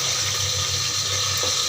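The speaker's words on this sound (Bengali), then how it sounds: "দেখো জলটা বেশি দিয়েছি, যেহেতু ডাঁটা আলু সব সেদ্ধ হবে তার জন্য দিয়েছি।" Water pours steadily into a pot of sautéed drumstick and potato curry, a continuous close rushing splash with no pauses or speech.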